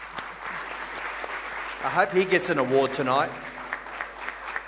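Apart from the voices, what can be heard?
audience applause at awards night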